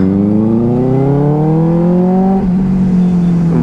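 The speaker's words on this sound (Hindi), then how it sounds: "भाई साहब बेनेली आवाज़ के लिए जानी जाती है और डेफिनेटली ये कहीं भी कमी नहीं छोड़ रही है, बहुत लाउड है भाई, बहुत लाउड।" A very loud Benelli motorcycle engine accelerates on a road, its pitch climbing steadily through a gear, then dropping briefly at a shift before it settles again, close and dominant.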